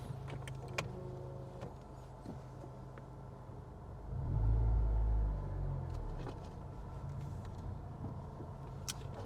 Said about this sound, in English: So right now I'm driving in sport mode